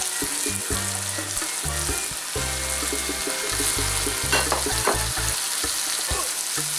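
Grated cauliflower and juicy tomato are stirred in a frying pan, producing a continuous sizzle with scraping and stirring strokes that grow busier toward the end.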